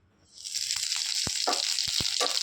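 Cumin and spices hit hot oil for a tempering, bursting into a loud, steady hiss of sizzling that rises quickly and holds, dotted with sharp crackles and spits, close up.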